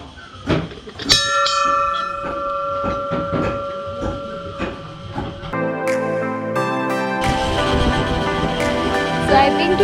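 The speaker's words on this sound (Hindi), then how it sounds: "तो आप लोगों को मंदिर की घंटी सुनाई दे रही होगी." At Bhagsunag temple near McLeodganj in Himachal, bells ring repeatedly with sharp metallic strikes and long ringing tones, loud and close, amid busy crowd bustle and a denser clang of bells toward the end.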